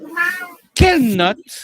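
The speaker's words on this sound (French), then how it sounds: "Ça, c'est le chat qui fait une espèce de caméo." A cat meows loudly and close by, a drawn-out, rising-then-falling call following a shorter cry, between snippets of a person's voice.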